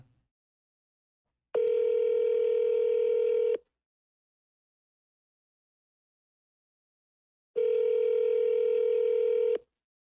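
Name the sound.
telephone call ringing, unanswered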